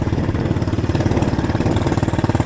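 A Loncin 110/125 motorcycle engine idles with a loud exhaust, a steady, close, rapid pulsing throb with no talk.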